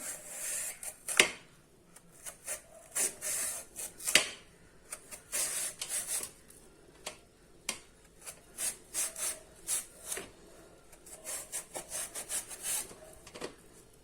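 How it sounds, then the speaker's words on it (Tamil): Raw plantain sliced thin on a handheld vegetable slicer for bajji, a series of short, crisp rasping strokes repeating at an uneven rhythm, close and fairly loud with quiet gaps between them. "இப்போ இந்த மாதிரி வாழைக்காய் சீவரத்தில் வச்சு நம்ம சீவிக்கலாம்."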